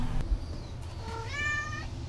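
A single cat gives one drawn-out meow, fairly close and clear over a quiet background, with no talking.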